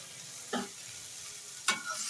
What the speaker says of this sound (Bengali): ফুলকপিগুলো ভাজা হচ্ছে এই যে হালকা হালকা লাল লাল হতে শুরু করেছে